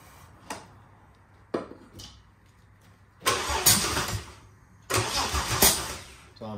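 A Chevy big block engine in a VK Berlina cranks with a few short bursts, then catches twice, roaring briefly each time before dying back, loud and close with no talk.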